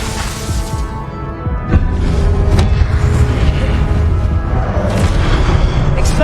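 Confringo blasting spell explosion in Hogwarts Legacy, a heavy boom near the start giving way to dense, loud rumbling and crackling blasts that continue steadily throughout.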